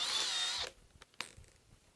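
A Makita XPH14 hammer drill whines loudly while drilling, then cuts off abruptly, followed by a few faint clicks and knocks.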